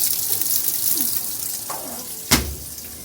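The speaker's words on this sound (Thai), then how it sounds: "รอน้ำเต็มก่อนนะครับ" Water pours into the tub of a Samsung top-load washing machine, a steady rushing fill close by, with a brief sharp knock near the end.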